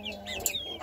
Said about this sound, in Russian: Вот курочка Rhode Island.